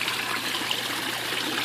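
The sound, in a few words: small backyard waterfall trickling into a pond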